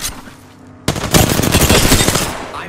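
Sustained automatic gunfire from Apex Legends erupts abruptly after a quieter lead-in, loud, dense and rapid, continuing without a break to the end.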